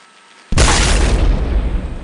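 A single loud, sharp gunshot in the video game Happy Wheels, an abrupt booming crack that leaves a sustained noisy tail.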